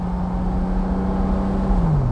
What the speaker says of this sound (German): Klingt auch gut, der Motor.